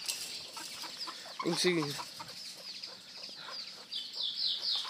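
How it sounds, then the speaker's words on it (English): Chickens clucking outdoors on a farm, a hen with a dozen young chicks nearby, giving soft scattered clucks and chirps at close range while a person speaks briefly. "there's a mama chicken with her chicks"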